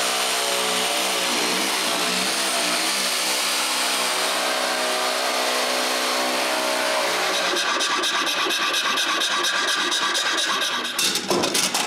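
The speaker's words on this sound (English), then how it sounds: "cut a 5-inch hole on top" A power tool cuts a 5-inch hole in the top of a wooden trap while fitting a Minimax FS3 in a woodworking shop. A loud, steady whining motor runs throughout, turning rougher and chattering near the end as the cut finishes.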